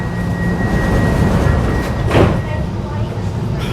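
Bucharest underground metro train rumbling steadily along the track, a loud, continuous low roar with a brief swell of hiss and clatter midway, heard from inside the car.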